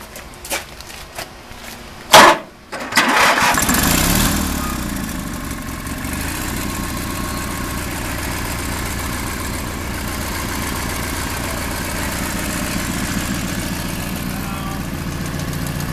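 Engine on a US Filtermaxx Super Sucker vacuum trailer for collecting waste vegetable oil cranks with a sharp burst, then settles into a steady close, loud idle with a rough low rumble that continues to the end.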